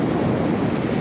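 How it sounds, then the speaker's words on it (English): Strong wind roars steadily across a beach at Sauble Beach during a volleyball match, a constant loud buffeting rush with surf-like texture and no voices. "the wind is vicious"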